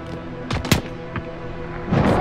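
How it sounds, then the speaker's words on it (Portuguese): Gunfire in the video game Call of Duty Modern Warfare: a few sharp, close shots in quick succession followed by a burst, set against a faint background drone. "Esses tiros estão vindo da estrada."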